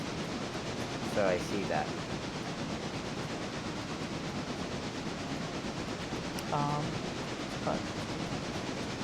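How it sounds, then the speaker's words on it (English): A passenger train in the Railroads video game draws near along a branch line, heard as a steady, rumbling rail wash with hiss throughout, while a voice briefly speaks over it. "We've got one of the passenger trains off the branch is coming at us."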